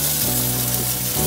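Three sausages sizzle steadily on an outdoor barbecue, a loud, close, continuous frying hiss with no talking.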